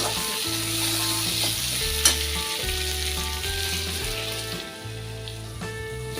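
Pumpkin stems, potatoes and shrimp fry in a pan over low gas while being stirred, giving a steady close sizzle with a few scraping strokes and one sharp clink.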